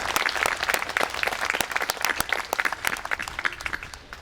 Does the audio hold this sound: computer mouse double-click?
no